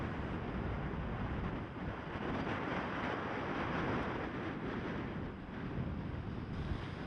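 Strong wind sweeping over the sea at Gurnard Bay during a sailing regatta: a loud, continuous roaring rush of gusts buffeting the microphone, with surging waves and sea noise blended underneath and no voices.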